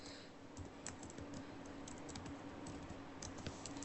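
Rapid, close clicking of a computer keyboard as an SQL insert query is typed, keystrokes arriving in quick irregular bursts over a low background hum.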